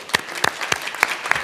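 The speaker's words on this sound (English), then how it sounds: "we should all give ourselves an applause for that" A handful of people at a board meeting clap sparsely, about six distinct, evenly spaced hand claps heard close and clear in a quiet room.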